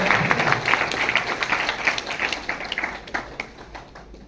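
An audience at a community program in Gandhinagar breaks into dense, quick applause, many hands clapping at once. The sound is fairly close and continuous, then thins slightly toward the end.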